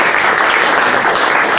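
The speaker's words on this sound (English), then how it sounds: "So, round of applause for Nathan and David." A room of campaign-event attendees in Atlanta claps for two men, a brief, dense burst of applause held at full strength throughout.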